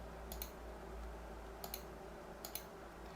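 Computer mouse clicks while working in SolidWorks 2021 design software, a few sharp double clicks spaced about a second apart over a steady low electrical hum, close and quiet, no talking.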